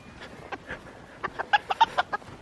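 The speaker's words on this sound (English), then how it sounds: "The chickens are coming for you." Chickens cluck in a farmyard, a quick run of short, sharp clucks that grows busier toward the end, close by and moderately loud.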